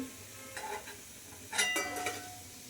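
Tomatoes fry in a pan with a quiet sizzle and a few brief stirring scrapes, heard alone without talk.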